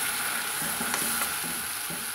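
Ground tomato is stirred into a frying masala for a meal maker chukka, a soft steady sizzle broken by a few light scraping stirs, close and brief.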